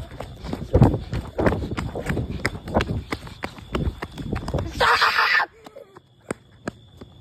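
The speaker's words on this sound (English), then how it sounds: "Is that a donkey?" Donkey hooves clip-clop along a woodland path, a rapid run of distinct close thuds and knocks that stops suddenly, followed by a brief burst of noise and a few scattered sparse steps.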